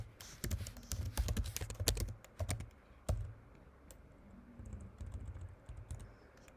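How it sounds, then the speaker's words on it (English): Someone types on a computer keyboard nearby, in quick uneven bursts of crisp keystroke clicks with short pauses between runs, alone in a quiet room. "Sorry, I'm just typing, I'm not even looking up."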